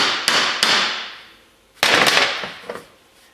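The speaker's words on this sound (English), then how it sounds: "I stuck it in the vise and I tapped on the yoke just to back up the joint a little bit" A hammer taps on the axle yoke of a 1980 Chevy Silverado Dana 44 front axle held in a vise to back out a U-joint. Four sharp, loud metallic strikes ring out in two pairs, each with a short ringing decay.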